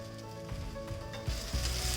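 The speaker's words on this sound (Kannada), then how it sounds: "ಬೆಂಡೆಕಾಯಿ ಕೂಡ ಚೆನ್ನಾಗಿ ಫ್ರೈ ಆಗಿದೆ." Okra frying in a pan, a soft continuous sizzle over a steady low hum, with a couple of louder thumps as the pan or spoon is moved near the end.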